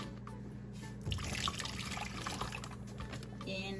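Brown sugar, pineapple juice, garlic and ginger marinade pours steadily into a bag in a home kitchen, a soft continuous liquid trickle and splash lasting throughout, close and fairly quiet.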